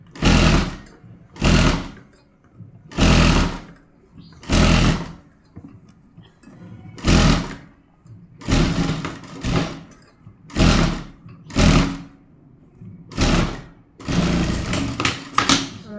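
Sewing machine double-stitching the sleeve seam of a kameez, running in about nine short bursts of rapid needle clatter separated by brief pauses, close and loud with no talk.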